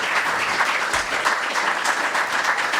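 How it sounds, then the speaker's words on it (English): Audience applause at the 2019 IRONMAN World Championship pro men's press conference, a steady, dense round of clapping filling the room for nearly three seconds without a break. "Give him a big round of applause for our top 5."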